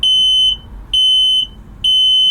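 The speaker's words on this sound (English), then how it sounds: "We've also got a smoke alarm. That'll do about another 3 repetitions." A caravan smoke alarm under test gives three loud, piercing high-pitched beeps, each lasting about half a second and evenly spaced roughly a second apart, heard close up over a low room hum.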